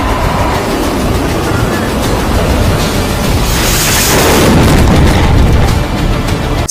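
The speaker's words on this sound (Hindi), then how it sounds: "तुर्की का ये पहला हाइपरसोनिक मिसाइल है, बैलिस्टिक मिसाइल है, जिसका इस्तेमाल किया गया है" Launch of a Turkish hypersonic ballistic missile, a loud continuous roaring rumble that swells toward the middle and holds for several seconds, dense and booming throughout.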